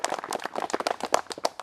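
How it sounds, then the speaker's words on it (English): Audience applause after a spoken tribute, a dense burst of many hands clapping together at close range, steady and lively throughout. "So I want to give you a round of applause"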